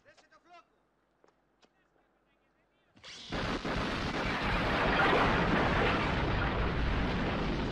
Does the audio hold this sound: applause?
no